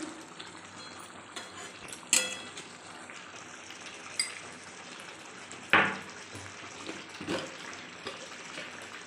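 Potatoes fry with salt in a pan until browned, giving a soft, steady sizzle broken by a few sharp clatters of stirring. No one speaks.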